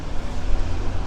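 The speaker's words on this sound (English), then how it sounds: "the wind's coming right at us now" Strong gusty wind from Storm Babet on the Blackpool seafront buffets the microphone in a dense low roar that surges and dips over a brief moment, with no talking.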